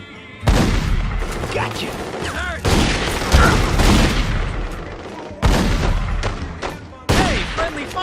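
Gunfire from The Godfather 2 video game: repeated loud bursts of shots and booming impacts in several blasts, with voices talking over the fighting.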